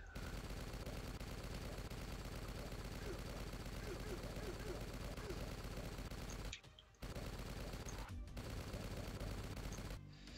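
Rapid, continuous gunfire from the character Marcel in the survival game Stranded Alone, loud and dense bursts filling nearly the whole stretch, broken by two brief drops near the end.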